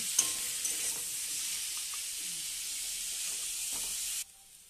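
Potatoes and kohlrabi fry together in a pan for a tangra fish curry, giving a close, steady, loud sizzle that runs unbroken for about four seconds before cutting off abruptly.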